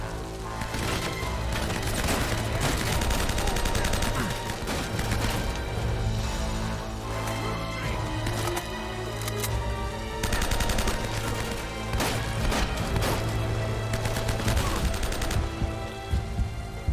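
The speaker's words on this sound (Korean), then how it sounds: "저격수" Sniper gunfire in the video game Uncharted: Drake's Fortune, during a final-chapter showdown, comes as dense, repeated shots and bursts over a loud, continuous battle soundtrack.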